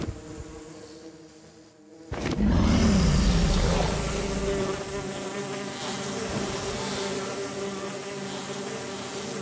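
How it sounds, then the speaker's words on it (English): A vast swarm of Minecraft bees bursts in after a near-silent start, their dense electronic buzzing loud and continuous, swelling suddenly and then holding steady to the end. "let's spawn these bees in."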